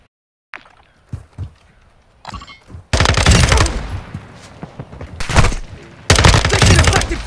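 Loud bursts of automatic gunfire in the video game Call of Duty DMZ, starting with a few scattered shots and thuds, then two long sustained volleys with a brief pause between them.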